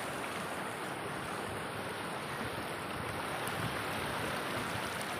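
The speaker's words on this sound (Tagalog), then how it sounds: "Masungit ang mga alon." Rough sea waves roar and wash in a constant broadband rush at an islet in the Philippines, with wind adding to the steady noise and no pauses or voices.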